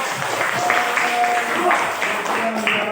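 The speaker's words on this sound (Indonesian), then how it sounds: "tepuk tangan untuk kelompok" A classroom of junior high students applauds a student group after its presentation, a steady spread of clapping with a few voices talking through it.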